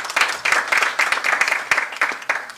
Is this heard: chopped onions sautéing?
no